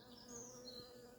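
A honeybee buzzes close by near the entrance of a hive, a brief steady droning hum with a faint wavering pitch, fairly quiet and with no talk over it.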